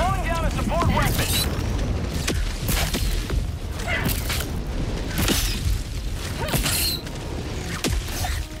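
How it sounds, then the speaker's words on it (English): A support weapon is called down in the video game Helldivers 2 amid a loud, dense battle of booms, creaks and mechanical rumbling, with voices talking over the din. "Calling down a support weapon."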